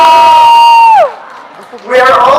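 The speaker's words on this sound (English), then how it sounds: "Guys, you can cheer." A press-conference crowd for the Miss Universe owner and titleholder in the Philippines: a loud sustained whooping tone slides down and fades, then cheering and shouts swell back up strongly near the end.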